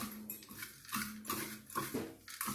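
Ground peanut rat-bait powder is mixed in a bowl, making repeated scraping and clinking strokes in a steady rhythm, close and fairly loud, with no speech.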